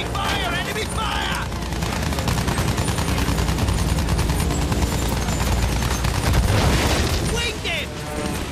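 Enemy gunfire in the Battlefield 1 video game, dense continuous bursts of machine-gun fire and booms, loud and close, with game voices mixed in.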